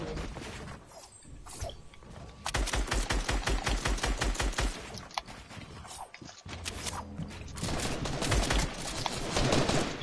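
Rapid bursts of video game gunfire crackle in fast clusters, with mechanical clicks and reload-like clatter between volleys, fairly quiet and steady across the stretch.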